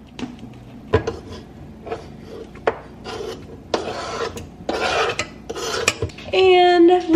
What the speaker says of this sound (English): But I'm just gonna mash these up with the fork.